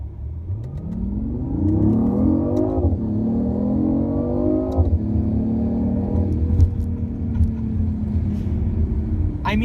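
A BMW i8 hybrid sports car with a three-cylinder engine and small electric motor accelerates hard, its engine note rising through several gear changes with brief drops between them, close and loud, with some speech underneath.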